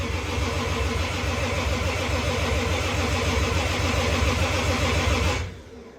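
A Toyota 2JZ engine cranking on its first start, a loud, continuous rhythmic churning of the starter that runs steadily for several seconds, then cuts off abruptly into quiet.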